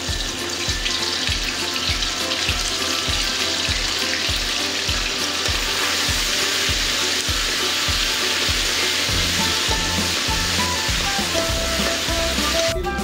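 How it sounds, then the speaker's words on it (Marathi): Ginger garlic paste fries in hot oil for a chicken masala, a loud steady sizzle up close with a repeating rhythmic scraping or stirring pulse underneath and no talking. "आता आपण त्यामध्ये 2 चम्मच अद्रक लसूणची पेस्ट टाकून व्यवस्थित तळून घेणार आहोत"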